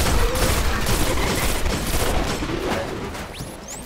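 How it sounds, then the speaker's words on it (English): A grenade explodes in the Destiny video game on PS4, a loud burst of dense, rumbling gunfire-like blasts that fades toward the end. "I'm not exactly sure how effective this grenade is."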